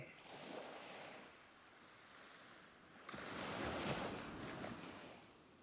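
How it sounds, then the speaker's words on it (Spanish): Gentle sea waves wash onto a beach, a soft, steady hiss that swells into a fuller breaking surge midway, calm and distant with no voices. "y el sonido del mar tan relajante"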